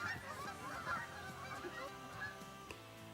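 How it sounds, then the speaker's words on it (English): Geese honk at Lake Fairfax Park, a faint, distant chorus of repeated honking calls against soft background noise. "every time I go there, the geese fly away"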